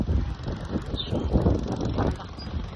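Strong wind buffets the microphone at the high point near the windmills of Kapurpurawan Beach in Ilocos North, a steady low roar and rumble with no speech.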